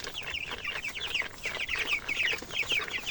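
Two-week-old broiler chickens in a backyard coop give off a dense, continuous chorus of high peeping and clucking from many birds at once, close and fairly loud, with no speech.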